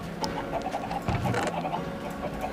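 Chickens clucking in Minecraft, a run of short, soft clucks repeating at a steady pace against a low background hum, with a slightly busier burst near the middle.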